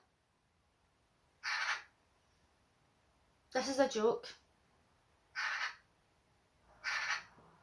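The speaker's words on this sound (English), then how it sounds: "Could you hear that bird outside my window?" Four loud bird calls, harsh crow-like caws spaced a couple of seconds apart, with a brief spoken remark between them against a quiet background.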